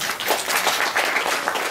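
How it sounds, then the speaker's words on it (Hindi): Audience clapping of thanks during a Hanuman Katha religious gathering, a brief, even patter of hands from a crowd at moderate volume. "हमारे भैया जोरनाथ जी को मैं तालियां बजा करके धन्यवाद दूं।"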